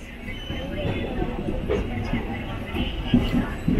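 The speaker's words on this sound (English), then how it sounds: "the plan is we'll be taking this train all the way to Nagercoil" Interior of an unreserved carriage on the 20691 Antyodaya Express running from Trichy toward Nagercoil, with a steady low rumble, rattling clanks and a constant hum of passenger chatter around.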